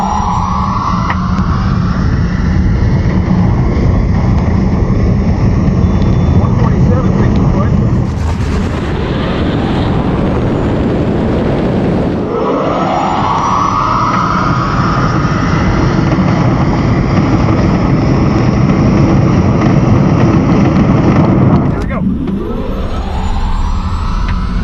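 A stripped-down Tesla Model S Plaid launches down a quarter-mile drag strip, its loud electric whine climbing steadily and then falling away, with a rushing broadband burst midway and other passing vehicle sweeps near the end.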